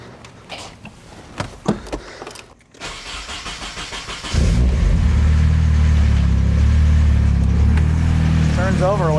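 A turbocharged Nissan 240SX cranks over and catches after a wiring repair, its engine settling into a loud, steady idle close by that runs to the end, with a few brief spoken words near the start.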